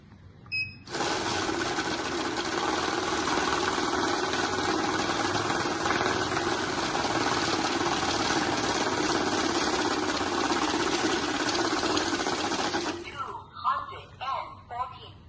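Fast whirring rattle of a cash counting machine working through a stack of mixed banknotes, one long dense burst that stops abruptly, followed by someone talking.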